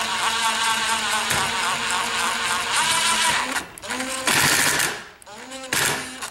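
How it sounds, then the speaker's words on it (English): Power driver tightening the ground post on an EMotorWerks JuiceBox DIY electric-vehicle charger kit, a loud, continuous whirring buzz with several brief starts and stops, close by, with a voice speaking under it. "I could actually use the power driver"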